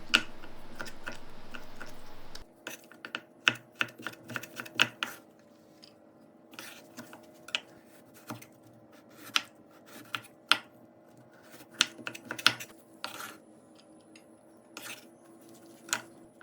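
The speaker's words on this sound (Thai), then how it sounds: "แครอทก็หั่นเป็นเส้นๆนะคะ" A knife taps and slices through a carrot into strips against a cutting board in irregular, quick strokes, close and fairly crisp, with no talking.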